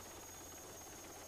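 Helicopters evacuating Americans from Saigon in 1975 are heard as a faint, steady rotor hum with a dense, even wash of noise throughout and no talking.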